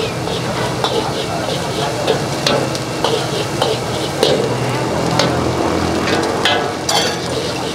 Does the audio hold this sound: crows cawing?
no